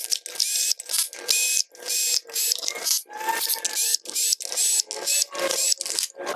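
Ratcheting clicks from a small 7 mm socket wrench loosening engine cover bolts on a Ford/PSA 1.4 HDi/TDCi diesel during a timing belt job, repeated bursts of close, sharp mechanical ticking with brief pauses.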